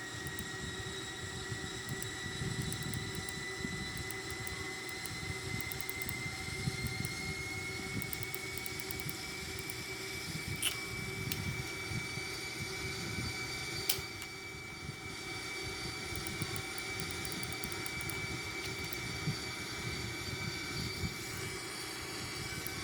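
Airbus A340-313X airliner descending on approach to land with flaps and landing gear extended in a flight simulator game, a steady continuous engine and airflow drone with faint tonal whines, constant and fairly even throughout, no talking.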